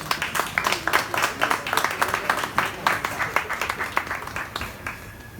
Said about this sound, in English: we'll give you a big round of applause